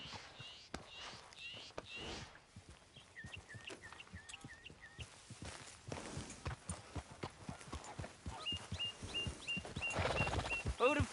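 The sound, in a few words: horse hooves clip-clopping, video game Red Dead Redemption 2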